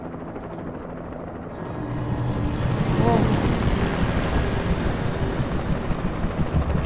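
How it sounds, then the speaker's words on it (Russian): Helicopter flying overhead in the video game Alan Wake, a steady rotor drone that builds louder partway through and holds, with a person's brief exclamation at the start. "О, вертушка. Где вертушка?"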